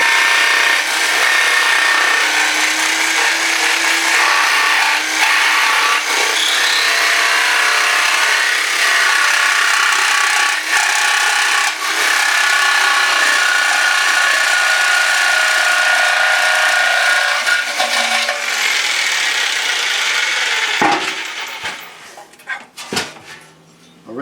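A power tool cuts through metal in a garage motorcycle project, a loud, steady grinding whine that holds for about twenty seconds, then cuts out into a few brief clattering bursts.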